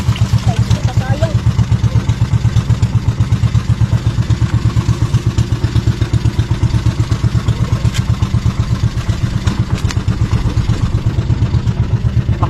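A fishing boat's motor chugs in a fast, steady rhythmic putter, loud and close, running continuously throughout with faint voices beneath it.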